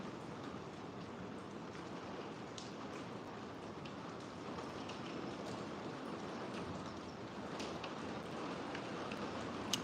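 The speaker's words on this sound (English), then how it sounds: "All right, we needed the rain" Steady rain falls outdoors near a cave, a dense, even hiss with scattered sharper drop taps, continuous and unbroken throughout with no voices.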